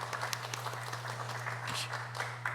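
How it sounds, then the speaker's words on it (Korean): Members of a Wednesday church service clap together briefly, a short burst of mixed handclaps over a steady low electrical hum. "저희 박수 한번 하실까요?"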